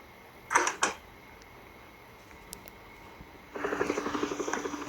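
A helicopter in a Roblox game comes in as a steady, pulsing rotor chop that starts suddenly and grows louder. A few faint clicks and soft thumps come before it.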